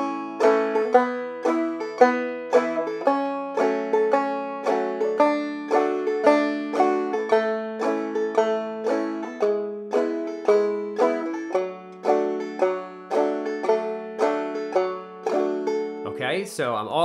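Clawhammer banjo playing the chorus break of a song, with bright plucked notes in a steady rolling rhythm, close and clear, played alone throughout.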